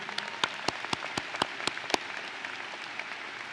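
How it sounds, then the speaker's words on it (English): A few separate hand claps ring out in a large space at a high school commencement ceremony, sharp and spaced at first, then thinning into sparse faint claps over a low room hum. "one more round of applause for all these bright young men and women willing to defend our country"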